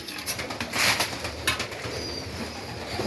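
Pigeons in a dovecote, including young squabs, coo and rustle close by, with a brief burst of wing flapping near the middle over a steady noisy background.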